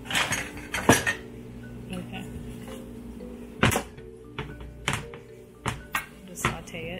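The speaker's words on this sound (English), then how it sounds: "And then you have to stir it" Chicken pot pie filling is stirred in a pan with a utensil, giving irregular metallic clinks and knocks scattered over several seconds against a faint kitchen background.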